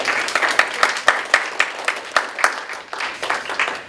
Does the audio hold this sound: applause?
yes